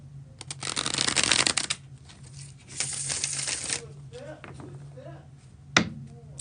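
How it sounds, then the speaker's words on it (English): A deck of tarot cards is bridge shuffled twice in close, loud riffling bursts, each ending in a soft bridge and tap, with a person speaking between the shuffles. "I'm going to go ahead and bridge shuffle for you folks"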